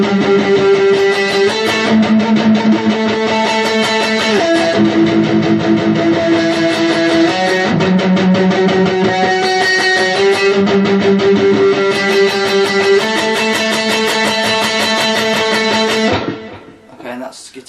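Distorted electric guitar plays the breakdown of a song, with loud sustained chords and riffing that carry on steadily before cutting off near the end.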